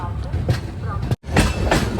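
Mandovi Express pulling out of Kankavli station on the Konkan Railway, a loud steady rumble of wagons with rhythmic clatter, broken by one brief gap.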